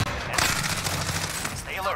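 Rapid automatic gunfire from Call of Duty Warzone comes in dense, continuous bursts, loud and close, with a player's voice briefly audible near the end.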